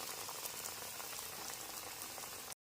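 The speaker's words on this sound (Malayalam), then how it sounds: "അത് എണ്ണയിൽ കിടന്ന് അങ്ങനെ മുരിഞ്ഞു പാകമാകുന്നു." Bajji chillies frying in hot oil, a dense steady bubbling crackle that runs without pause, close and even, then cuts off abruptly.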